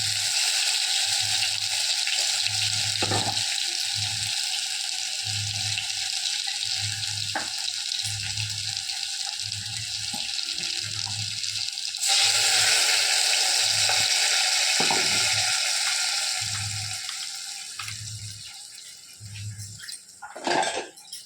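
Steady sizzle of curry simmering in a pan, with a regular pulsing bubble and occasional clinks of stirring, continuous and close throughout.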